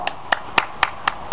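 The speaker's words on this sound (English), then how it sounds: "Clap for her." Six sharp hand claps ring out in a steady, fairly quick rhythm, close and clear over a quiet backdrop, from a family cheering a child at home in summer.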